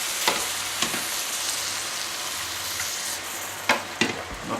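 Chicken porridge is stirred in a pot while hot liquid from a boiling pot is poured in, giving a steady bubbling sizzle with a few sharp clinks of the spoon against the pot. No one speaks.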